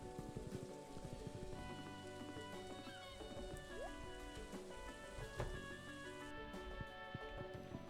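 Rain falling on Ginger Island in Stardew Valley, a soft, steady patter of drops with light, scattered taps, quiet and unbroken for the whole stretch.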